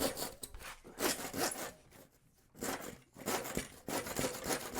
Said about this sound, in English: I'm going to use a handsaw here just to square off the edges where the circular saw couldn't quite reach